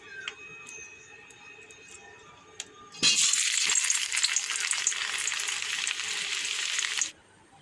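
Vegetables, papaya and potato, drop into hot oil and burst into a loud, steady sizzle that lasts about four seconds before cutting off, after a quieter stretch of faint clinks and background hum.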